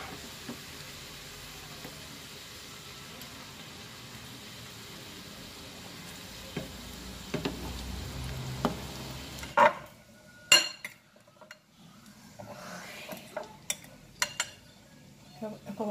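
Rice balls fry in oil in a small pan, first a steady sizzling hiss, then scattered clinks and sharp pops of frying.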